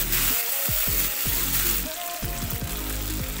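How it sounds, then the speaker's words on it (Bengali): Onion, ginger paste, garlic paste and tomato spice paste, seasoned with cumin, turmeric and Kashmiri chili, sizzle loudly in hot oil for a Bengali fish curry, with a steady frying hiss broken by several scraping stirs. "মশলাটা ভালোভাবে কষিয়ে নেব।"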